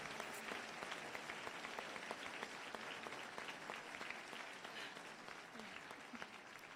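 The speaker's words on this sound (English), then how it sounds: "So please give us a big round of applause." An audience at a high school graduation claps steadily, a dense continuous wash of applause that fades slightly toward the end.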